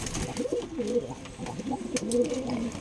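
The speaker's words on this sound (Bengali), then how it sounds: "অনেকগুলা কালো কবুতর" Pigeons, including many black ones, coo at a pigeon farm, soft throaty rolling calls repeating and overlapping close by in a steady rhythm with no speech.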